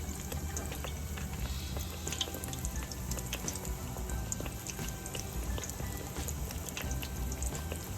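Pork ribs deep frying in hot oil at around 360 degrees, the oil slightly cooled by cold meat, giving a steady, dense bubbling sizzle with fine crackles throughout.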